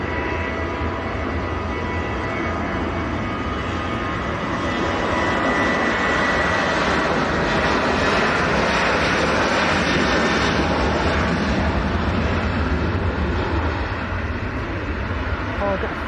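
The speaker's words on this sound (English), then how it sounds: "We'll have a go at this RAF Voyager, which is coming north to south." An RAF Voyager tanker-transport passes over Manchester Airport heading north to south; its deep jet roar swells after a few seconds and stays loud and sustained, with people talking underneath.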